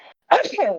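A single loud sneeze bursts out close by after a brief soft murmur, sharp at onset, then trailing off into a breathy tail within about half a second.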